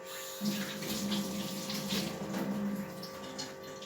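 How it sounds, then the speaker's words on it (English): Kitchen tap running steadily as hands are washed under it, a close, moderate rush of water with some splashing and no talking. "let me just wash my hands quickly"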